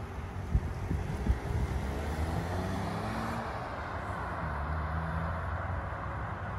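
A 1-litre VW Polo Beats cruises on an open road, its steady engine drone and tyre roar blending with wind noise. A couple of brief knocks come early, then an even, continuous hum.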